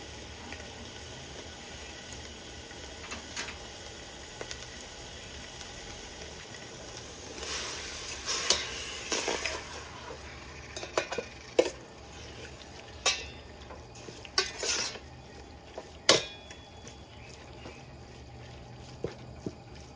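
Pork and mushrooms stir-frying with curry paste in a pan: a steady, soft hiss runs throughout, swelling into louder sizzling bursts and a string of sharp scraping clatters from the pan toward the end.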